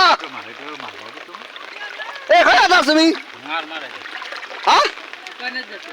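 Floodwater flows with a steady rush during heavy monsoon rain in the Konkan, beneath loud, excited voices talking and calling out nearby.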